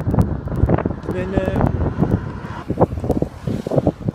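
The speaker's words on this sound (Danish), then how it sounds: "det blæser af helvede til" Strong, cold wind gusting outdoors, buffeting the microphone with a rough, rumbling roar that rises and falls, under a person talking as they walk along.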